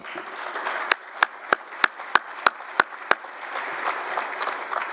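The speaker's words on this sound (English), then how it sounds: "Please join me in a round of applause for the athletic staff." A round of applause at an athletics Wall of Fame ceremony, with sharp, distinct claps standing out over a steady patter of crowd clapping, fading out toward the end.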